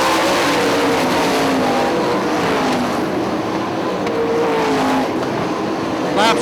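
IRA sprint cars race at Hartford Speedway Park during a 25-lap A main, engines roaring loudly and continuously as cars pass, with pitch swells of passing engines and a commentator talking over the noise.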